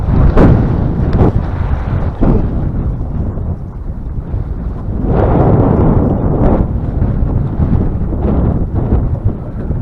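Strong wind gusting near power lines on a fishing outing, a loud, close, rumbling buffeting roar that swells and fades in bursts across the whole stretch, with no speech.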